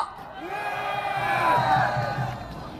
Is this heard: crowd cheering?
yes